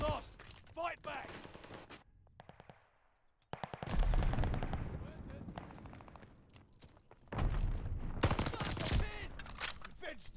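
Heavy gunfire from a Call of Duty: Vanguard multiplayer match, with sustained bursts and dense rapid shots over several seconds, a short lull near the middle, and voices shouting over the fighting.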